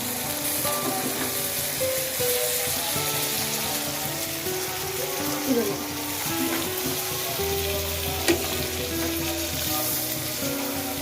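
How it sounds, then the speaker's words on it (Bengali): Shrimp fry in hot oil in a pan with a steady, loud, close sizzle that runs unbroken, accompanied by soft background music and no talking. "মাছটা ভাজা হয়ে গেছে"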